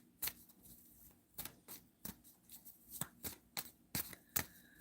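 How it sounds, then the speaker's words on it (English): A deck of cards being shuffled by hand, giving a run of soft, irregular riffling clicks and taps, close and quiet with no talking. "I'm shuffling as we speak."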